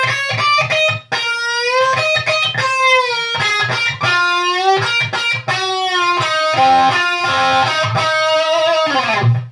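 Distorted electric guitar plays a blues-rock turnaround phrase, bending and sliding single-note lines with sustained, overdriven tone, loud and up close with no talking.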